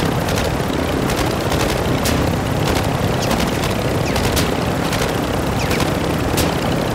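A video game shootout produces dense, continuous automatic gunfire, with sharp repeated bursts and booming shots over a loud, constant roar of engine or rotor noise.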